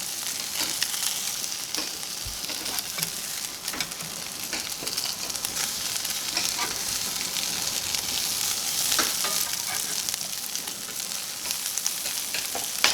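Vegan, CBD-infused beet cakes sizzle steadily in a hot pan after being flipped, with loud, continuous frying crackle and occasional sharper pops throughout.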